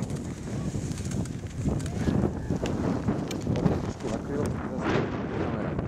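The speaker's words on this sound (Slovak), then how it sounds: "Fúka tu vietor silný." Strong wind blows across a ski slope at Hrebienok in the High Tatras, roaring steadily in gusts that buffet the microphone.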